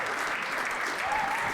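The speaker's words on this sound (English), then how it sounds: "Give yourselves a round of applause." An audience at an in-person sales leadership event claps together in a steady, dense wash of applause, with a few voices faintly audible underneath.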